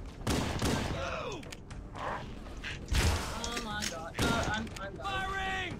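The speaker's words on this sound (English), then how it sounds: "I'm firing!" Gunfire in the Halo video game, level The Pillar of Autumn, with sharp thumping shots and bursts mixed among game sound effects and tonal chirps, while players talk over the action.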